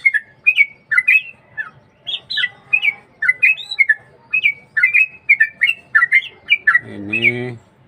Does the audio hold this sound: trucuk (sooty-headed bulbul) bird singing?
yes